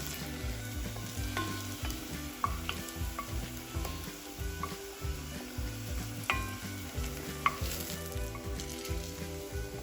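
Parsnip fries sizzling and crackling steadily in hot oil in a pan, a continuous close frying hiss with occasional stirring scrapes and pops.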